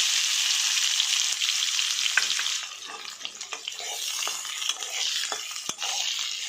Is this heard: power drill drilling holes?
no